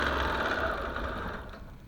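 A sewing machine runs steadily as it free-motion stitches a quilt along a ruler, a continuous close mechanical whir that eases slightly toward the end.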